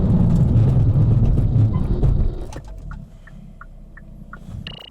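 A Hyundai Avante N with a DCT gearbox brakes hard in a stopping test: loud, steady road and tyre roar for about two seconds, then a sudden drop to a quieter low hum with a few faint short chirps.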